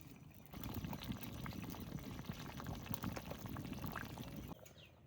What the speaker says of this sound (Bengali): মাংসের তরকারি কিন্তু টকবক করে ফুটে গেছে